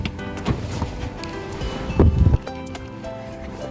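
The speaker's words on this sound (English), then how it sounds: "It's still pretty windy, though." Outdoors, gusty wind buffets the microphone in uneven, rumbling surges that are loudest around the middle, mixed with rustling and a few faint knocks.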